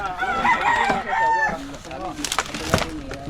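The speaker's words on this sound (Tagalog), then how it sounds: "Ito po yung mga alaga nilang manok." A rooster crows loudly nearby, followed by clucking hens among a flock of domestic chickens, with scattered chatter in the background.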